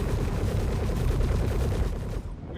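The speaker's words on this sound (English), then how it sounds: "Oh god, I'm getting sniped by something." Rapid gunfire in a video game, a dense rattling stream of shots striking the player, loud and close for about two seconds before cutting off.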